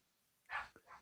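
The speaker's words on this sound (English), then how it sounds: "Damn dogs are just driving me nuts" A dog gives a couple of short barks, faint and somewhat distant, in an otherwise quiet room without speech.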